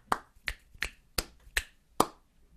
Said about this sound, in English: please don't clap this rhythm back with clicks